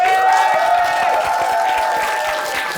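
A comedy roast battle audience keeps up steady clapping with some crowd noise, loud and continuous under a sustained musical tone, fading slightly toward the end.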